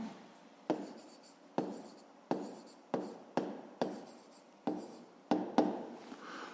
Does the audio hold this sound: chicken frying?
no